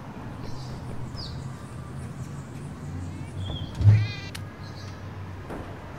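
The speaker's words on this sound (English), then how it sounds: "Aw, you're such a lovely pussycat." Cat meowing in the video game Downfall, a few short soft meows followed by one louder, sharper meow, with quiet ambient background tones and faint bird-like chirps.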